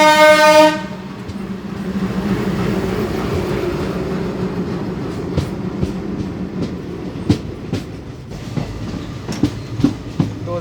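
Alco diesel locomotive from the Ernakulam shed shunting a coach rake: a brief horn blast opens, then a loud steady rumble of the engine and rolling stock with clattering wheel clicks and bangs over the track joints.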